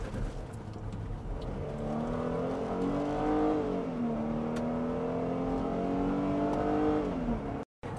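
A Ford Flex's 3.5-liter Duratec V6 pulls hard under acceleration, its steady engine note rising in pitch over several seconds, heard from inside the car with no talking.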